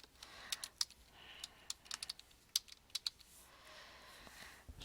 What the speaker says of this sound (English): we're going to type investment